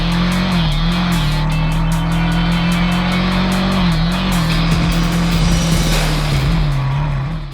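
Suzuki SV650 motorcycle engine pulling under throttle, a loud, steady, close engine drone with a slight wavering pitch and no voices.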